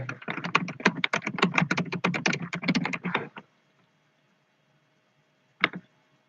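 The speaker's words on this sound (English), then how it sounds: "I'll type that right now." Rapid clattering keystrokes on a computer keyboard for about three seconds, close and steady, followed by silence and one final isolated key press.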